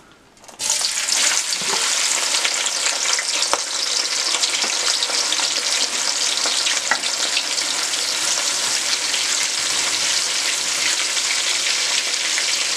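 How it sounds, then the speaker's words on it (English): Onion frying in hot oil in a pan on the stove: a loud, steady hiss and crackle that starts suddenly as the onion goes in, then holds evenly, with no talk. "we're going to start frying the onion first and the eggplant"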